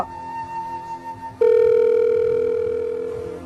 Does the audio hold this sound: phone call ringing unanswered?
yes